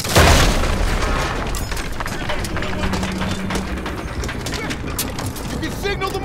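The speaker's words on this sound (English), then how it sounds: "You can signal the mortars, Daniels." Mortar barrage in the video game Call of Duty WWII: a heavy boom opens the clip, followed by constant loud battlefield rumble and clatter, with voices buried under the noise.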